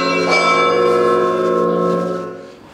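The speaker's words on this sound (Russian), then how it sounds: "попал на пятичасовой колокольный перезвон" Church bells ring out a five o'clock peal at a monastery town in Russia's Golden Ring, a rich, lingering tone, several bells overlapping close by before the sound slowly decays.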